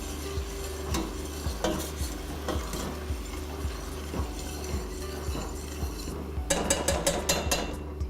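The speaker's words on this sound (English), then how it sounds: "we're gonna take a little bit of that pasta water and we're gonna put it in with the rendered fat from our guanciale" Pasta water poured and stirred into rendered guanciale fat in a pan, giving a steady close sizzle with scraping stir strokes and a few utensil clinks near the end; no one speaks.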